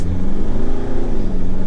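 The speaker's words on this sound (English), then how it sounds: "It feels pretty strong off the line, and you know, it does sound very truck-like" Mitsubishi Triton pickup truck engine pulling strongly off the line, a loud, close, low-pitched rumble that builds and holds steady for under two seconds with no talking.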